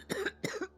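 Three dry coughs in quick succession, close and fairly loud, with short pauses between them.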